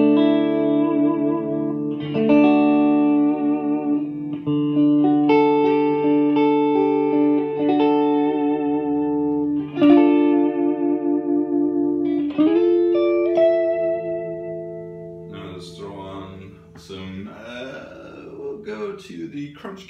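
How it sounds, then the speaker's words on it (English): Electric guitar through the clean channel of a Peavey Ultra 120 amplifier, ringing clear single notes and chords with light reverb, played steadily and fairly loud, with picking getting busier toward the end. "So on the clean channel, we get something like this."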